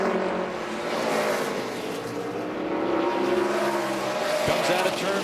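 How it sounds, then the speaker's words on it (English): ARCA stock cars race at Toledo Speedway, their engines droning in a continuous, slightly wavering roar from several cars at a distance under steady crowd and track ambience. "Comes out of turn 4 and into turn 1, the 25 of Justin Boston"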